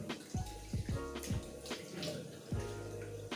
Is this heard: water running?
yes